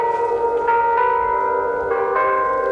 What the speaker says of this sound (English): I caught a caroling of the bells.